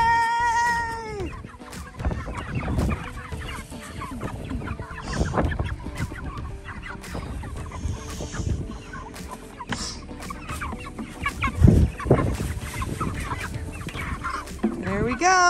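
Broiler chickens being moved out to pasture cluck and squawk repeatedly up close, a busy overlapping flock chatter with occasional louder calls and some handling noise.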